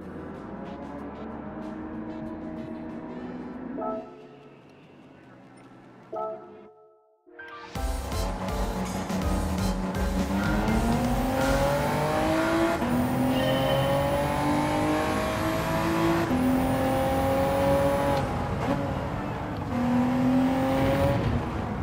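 Turbocharged sports car engines in Gran Turismo 7 at Suzuka, with a four-wheel-drive car among a field including a 911 Turbo, Lancer Evolution Final, GR Yaris and Fairlady Z, quiet idling then a loud sustained acceleration climbing steadily through gears.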